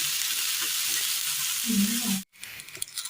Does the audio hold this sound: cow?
no